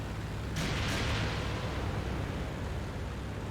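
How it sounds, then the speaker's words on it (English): Aircraft firing rockets at a tank in IL-2, a single rushing whoosh and burst that fades under a steady engine drone, with no talking. "I do fire the rockets."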